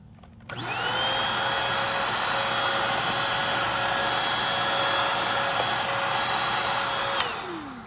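Curbside-found vacuum cleaner, clogged, switched on: a loud steady motor whine spins up quickly, holds evenly for several seconds, then winds down at the end, with no talking.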